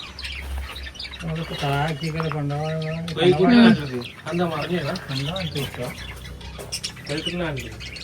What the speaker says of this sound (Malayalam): അതാണ് ഉമ്മാന്റെ കോഴിക്കള്